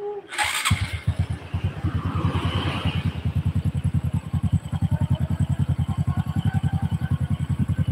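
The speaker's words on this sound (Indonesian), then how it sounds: "Kemudian kita bakal dengerin suara mesin hasil akhirnya." Honda Supra 125 motorcycle after clutch repair, started with a short burst then idling in a steady, rapid rhythmic putter, close and fairly loud, with no talk over it.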